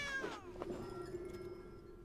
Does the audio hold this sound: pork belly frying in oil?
no